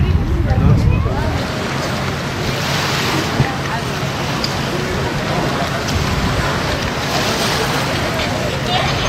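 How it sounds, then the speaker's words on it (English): Water laps and sloshes continuously by the shore at a marina on Lake Tahoe, with heavy wind buffeting the microphone and voices talking underneath. "So here we are at the marina on Lake Tahoe"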